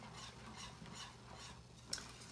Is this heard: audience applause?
no